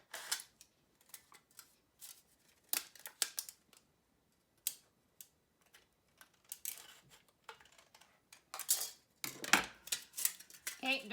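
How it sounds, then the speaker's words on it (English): Scissors snipping through a thin aluminum pop can, a series of sharp, crisp cuts and crinkling metal clicks in irregular bursts, close and fairly loud with quiet pauses between. "take my scissors, or if you're using snips, you can take your snips and then cut this out"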